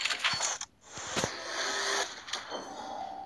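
Case opening in the mobile shooter Critical Ops: a brief cluster of clicky, whooshing interface and mechanical reveal effects, moderately loud, with a sustained shimmering tone afterward and no talk.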